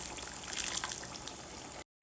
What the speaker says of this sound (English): so I'm going to add more water.